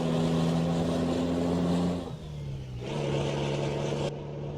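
A heavy Scania R500 truck engine in Euro Truck Simulator 2 drones steadily at close range, dipping briefly midway before resuming its low, continuous rumble.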